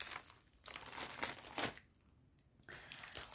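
Plastic craft-supply bags crinkle and rustle as they are handled close by, in several bursts with a brief quieter pause in the middle.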